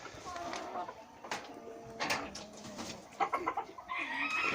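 Chickens cluck and squawk throughout, several birds close by in a busy coop, with a brief rooster-like call near the end.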